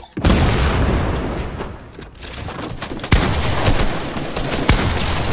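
Gunfire in Fortnite roars loud and close, sustained volleys and booming impacts with a few sharp single cracks standing out, no talking.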